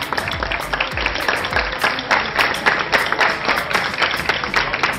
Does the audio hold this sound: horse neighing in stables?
no